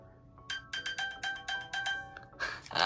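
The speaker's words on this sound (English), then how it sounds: "I tried to turn my watch off and instead I dinged my phone." A phone notification chime plays as a quick run of bright ringing tones, about seven or eight evenly spaced dings over two seconds, close and clear in a quiet room.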